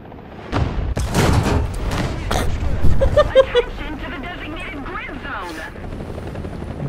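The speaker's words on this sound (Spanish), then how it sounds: "Helicóptero." Helicopter in the War Thunder tank battle game, a thumping rotor mixed with loud booms and gunfire through the battlefield din, with brief talk early on.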